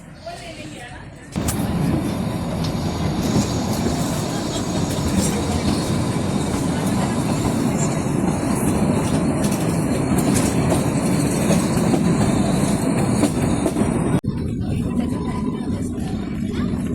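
The Kalka–Shimla toy train rolls along its rails near Solan station, a steady loud rumble with clickety-clack and faint wheel squeal lasting most of the stretch, beginning and ending abruptly.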